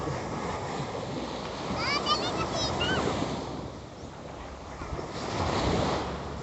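High-tide waves wash and surge close by at a beach in Ternate, Cavite, in a steady rush, mixed with wind noise, while a voice or bird-like calls briefly rise above the surf.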